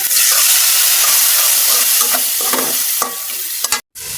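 Water poured into a pan of frying fish curry with potatoes and pointed gourd sends up a loud, broad hiss and sizzle, with stirring scrapes, then a sudden brief cut-out before the sizzle resumes.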